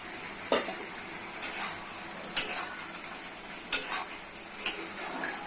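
Onions sautéing in a pan with a faint steady sizzle, broken by a few sharp clinks of a spoon stirring against the metal.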